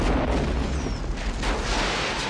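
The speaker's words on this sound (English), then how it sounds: "I will say the explosion is dope, but it's completely unnecessary." A sign blows up in the 1994 film Double Dragon, a loud broad boom and rumble that fills the clip and holds steady over about two seconds.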